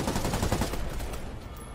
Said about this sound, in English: Oh, gunfire. That's not good.